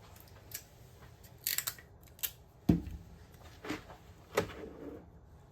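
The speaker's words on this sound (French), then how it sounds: "je découpe ici l'image." Scissors snipping around a printed picture, cutting paper during diamond painting canvas prep; a few quiet, separate snips and crisp clicks spaced over a few seconds, close by and soft, with no talking.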